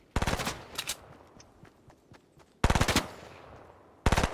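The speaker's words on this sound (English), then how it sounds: "Someone's shooting at me." Automatic gunfire in Fortnite, three loud rapid bursts of shots with quieter scattered shots between them, sharp and close.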